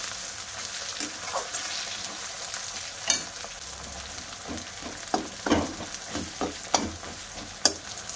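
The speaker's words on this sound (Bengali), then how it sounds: "দিয়ে ভালো করে কষিয়ে নেব" Tomatoes sautéing in a pan with spicy lote (Bombay duck) fish masala, a steady soft sizzle broken by intermittent scraping clicks of a spatula stirring, close and moderately quiet with no voices.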